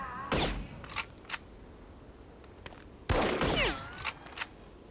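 Gunfire in the shooter The Operative: No One Lives Forever: two loud bursts of shots, the first near the start and a longer one about three seconds later, with scattered single cracks between and after.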